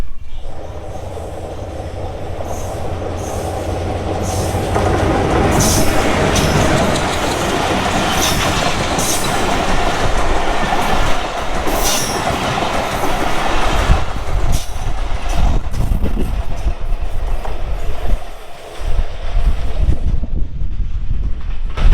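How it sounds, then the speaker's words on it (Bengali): The Tungipara Express, an intercity train running from Gopalganj to Rajshahi, passes through Jagati railway station in Bangladesh with a loud, continuous rumble and rhythmic clickety-clack of wheels on rail. The sound thins and fades in the final seconds. "এটা ছিল হচ্ছে টুঙ্গিপাড়া এক্সপ্রেস গোপালগঞ্জ থেকে রাজশাহী পর্যন্ত"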